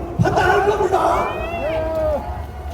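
A political rally crowd at Gwanghwamun in Seoul shouts loudly with overlapping voices and a long, rising yell, close and continuous through the moment.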